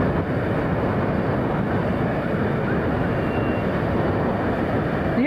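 A massive Airbus A380 at a windy London Heathrow Airport, its engines giving a steady, loud, broadband roar that holds unbroken throughout, with wind noise blended in.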